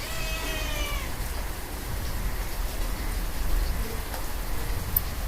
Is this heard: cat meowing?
yes